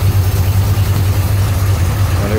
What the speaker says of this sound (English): And there's the engine with the fast idle solenoid activated.